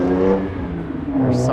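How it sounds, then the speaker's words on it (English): A car accelerating hard and revving as it swerves around traffic to cut in front of a truck on a Toronto street in January, heard loud and close with a steady engine drone that swells near the end. "driving like an idiot just to cut in front of a truck"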